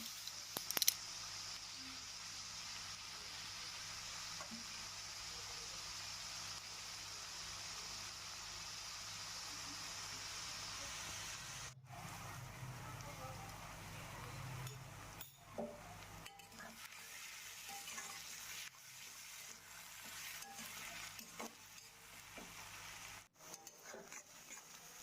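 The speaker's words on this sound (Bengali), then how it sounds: "রসুনটা দিয়ে সুন্দরভাবে নাড়াচাড়া করে নেব পেঁয়াজ সমেত।" Onion and garlic, salted, stir-fry in a pan for a mutton curry, producing a faint, steady sizzle with soft scraping and stirring sounds throughout.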